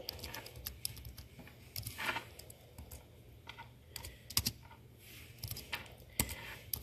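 Computer keyboard typing in an indoor room, with irregular bursts of close, crisp key clicks and a few louder taps, set over a low steady background hum.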